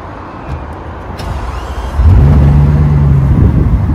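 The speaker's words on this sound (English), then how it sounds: "Put your foot on the brake and push the start button." A 16-cylinder supercar engine starting: quiet cabin at first, then the engine fires about halfway through and settles into a loud, deep, steady idle rumble with a tonal hum.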